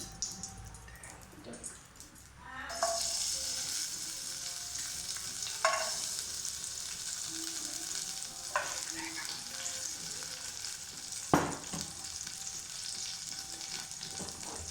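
Cashews and raisins fry in hot ghee, giving a loud, steady sizzle that swells after a quiet start, broken by a few sharp stirring clinks. No voices.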